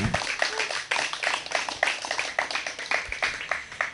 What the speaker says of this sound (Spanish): Den un aplauso al Eterno, aleluya.